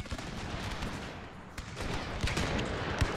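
Musket volleys crackle in the Total War Pike and Shot battle game, a dense run of overlapping gunshots that stays loud and steady throughout with no talking.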